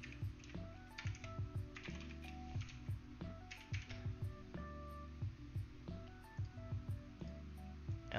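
Steady bursts of key presses on a computer keyboard as code is typed during a live coding session, close and moderately quiet, with a faint beeping tone in the background.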